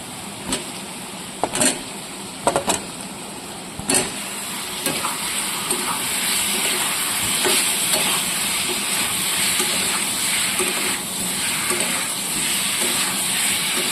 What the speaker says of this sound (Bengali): দেখুন তেলটা ছেড়ে এসছে, আলুর টুকরোগুলো দিয়ে দিচ্ছি একে একে।